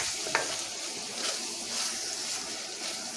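Budget chili of canned beans and meat being stirred in a pan, a soft continuous sizzle with gentle stirring noise and one brief clink near the start, close and fairly quiet.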